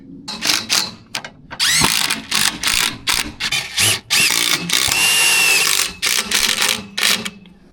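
Power drill driving a tack screw during farmyard repairs, loud close bursts of high whining spin and ratcheting clutch clicks in quick uneven pulses, with one longer sustained run near the end.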